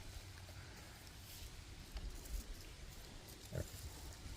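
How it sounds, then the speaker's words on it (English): Pig at an 1850s working farm, low grunts and snorts surfacing faintly from a steady outdoor background, with a couple of slightly stronger grunts near the middle and end. "there's another pig right there."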